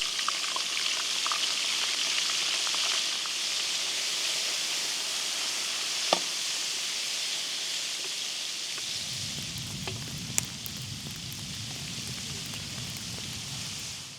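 Crayfish meat fries in a pan outdoors by the shore, a continuous hiss and sizzle like light rain, with a low rumble joining partway through and a couple of sharp clicks.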